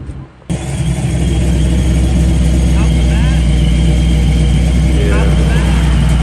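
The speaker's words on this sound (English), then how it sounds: "Got that Ford truck down there leaving" Ford truck pulling out of a car meet, its engine rumbling low and steady close by, with people talking over it throughout.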